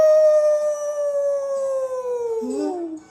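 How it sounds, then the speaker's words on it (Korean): A single long wolf howl sounds alone as an effect in a told story, holding a steady pitch before sliding down and breaking into a brief wavering tail at the end. "어디서 늑대 울음소리가 나잖아."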